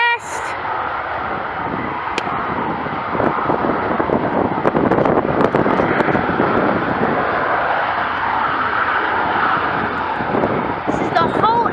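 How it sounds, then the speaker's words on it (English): A Eurofighter Typhoon jet engine test run at an airbase produces a steady, loud, broadband roar with no pauses, and wind buffets the microphone. "Engine test."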